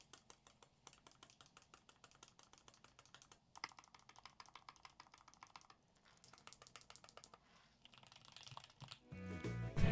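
The larger keys of a real carbon fiber keyboard pressed in rapid, steady runs of crisp close clicks and clacks, broken by short pauses, ending in a louder rustling handling noise.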